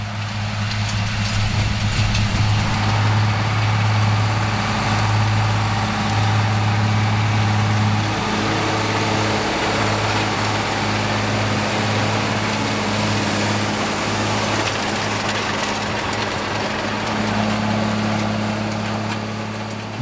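Classic John Deere tractor engine running steadily during field cultivating, a continuous deep droning hum that stays loud and even throughout, with no voices.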